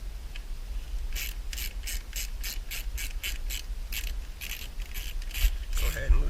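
A ratchet driving a T20 bit clicks rapidly to loosen a trim screw on a Chevy SS sedan (Holden Commodore), in a steady run of close, crisp pawl ticks with brief pauses, ending in a short scrape.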